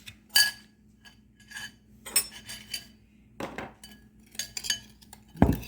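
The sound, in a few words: stirring sugar and cinnamon mix in a dish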